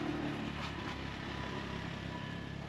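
A motorcycle engine runs steadily during a beginner's riding lesson in Banlung, Cambodia, a continuous low idling drone with a faint higher buzz, holding even loudness throughout with no voices.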